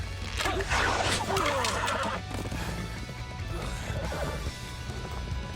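In the Dynasty Warriors 9 battle of Cheng Du, a horse whinnies amid a dense wash of battlefield noise, crashes and hoofbeats, with the neigh standing out early before the din continues steadily.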